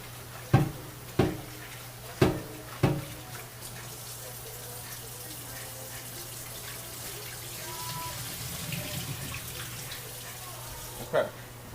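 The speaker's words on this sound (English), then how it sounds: "So we got our pasta rinsed off." Black bean pasta rinsed under a running kitchen tap gives a soft, steady water hiss, with four sharp knocks in the first few seconds and another near the end.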